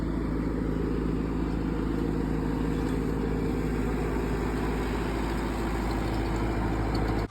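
A Sonalika 750 III tractor engine fitted with an added turbo runs steadily at idle, a loud, heavy low rumble with a constant throbbing pulse, close by and uninterrupted until an abrupt cut at the end.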